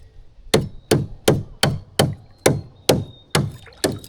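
A bolo knife chops repeatedly into hard wood, nine sharp, evenly spaced thwacks close by, each strike loud with a brief splintery ring, and no talk between the blows.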